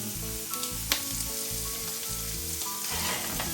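Shrimp sizzling loudly in melted butter in a pan for Alfredo sauce, a dense continuous crackle close by with one sharp clink early on and a steady hum beneath.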